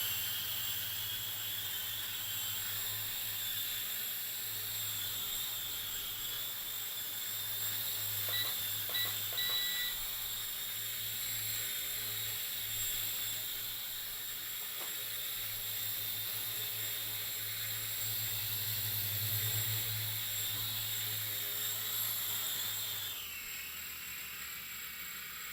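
A JJRC H98 camera quadcopter in flight gives off a steady, loud high-pitched whine over a rotor drone, continuous for most of the stretch, then dropping sharply near the end.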